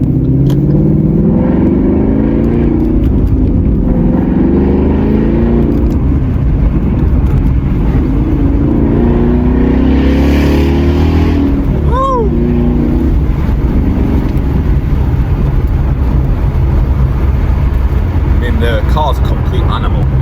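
A Roush-tuned 2017 Ford Mustang GT V8 rated at 500 bhp, heard close and loud as it drives with a sustained deep engine rumble that swells in steady revs, with brief voice interjections in the background.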